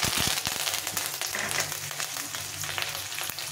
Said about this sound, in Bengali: এখন আমি সর্ষে জিরে আর সর্ষে কারি পাতাটা সবটাই দিয়ে দিব